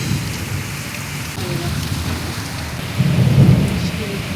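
Heavy first monsoon rain pouring steadily, with a deep rumble of thunder building toward the end, loud and close.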